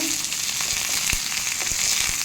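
Steady hiss of curry leaves lightly roasting in a pan, with a few soft clicks and pops scattered through, no voices.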